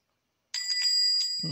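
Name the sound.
bell ding in Papa's Mocharia To Go video game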